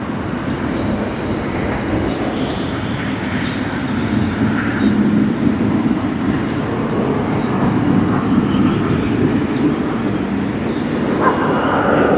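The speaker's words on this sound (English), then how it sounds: "Boeing 777-300." An American Airlines Boeing 777-300 roars at Sydney Airport as a loud, steady broadband jet rumble, sustained and close for the whole stretch.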